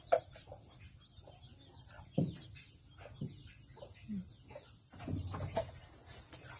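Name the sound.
chicken clucking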